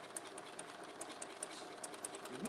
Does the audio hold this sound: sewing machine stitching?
yes